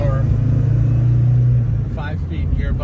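A 1962 Alfa Romeo Giulietta Sprint Speciale engine drones low and steady while driving on the road, easing off after a moment as a voice begins talking over it.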